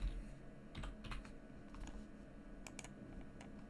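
Computer keyboard keys clicking in short irregular bursts, faint and close, with no voices over the typing.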